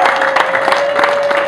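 Dense audience applause at a formal celebration, a steady, loud wash of many hands clapping with no pauses, heard alone in a short burst.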